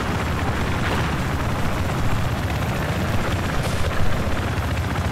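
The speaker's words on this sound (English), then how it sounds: "Look out, enemy chopper." Enemy helicopter in Battlefield 4, a dense, loud rotor roar mixed with rumbling game battle noise that stays constant throughout, with no clear voices.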